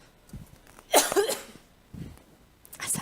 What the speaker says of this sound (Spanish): Tengo unas ganas de toser impresionante.